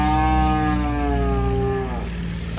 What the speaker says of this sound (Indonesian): Calon sapi jumbo.